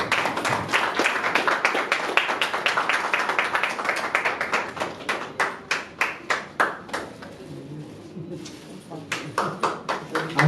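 An audience at the Natsamrat Theatre Award 2021 ceremony claps for recipient Ashok Gupta, first as dense applause, then thinning into scattered rhythmic handclaps.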